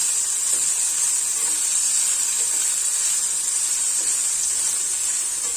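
Onions frying in a pan until pink, giving a steady, even hiss of sizzling oil throughout, close and continuous with no talk.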